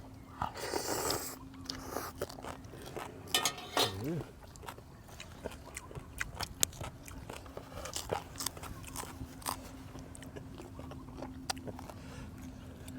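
Crunchy fried pork tail is bitten and chewed up close, with irregular crisp crunches scattered over a quiet room tone and a low steady hum.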